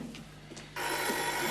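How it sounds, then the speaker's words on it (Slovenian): An old telephone rings loudly in a 1980s local community office, a continuous bright bell tone that begins abruptly after a quieter moment, with no talk. "Telefon."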